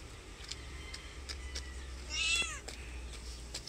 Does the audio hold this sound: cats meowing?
yes